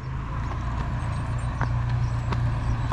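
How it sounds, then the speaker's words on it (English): A classic Ford Escort GTI arrives at a pub car meet, its engine a steady low rumble drawing closer. The sound is moderately loud against outdoor background noise, with a few faint knocks over it. "There's a few cars here. I can hear one coming now."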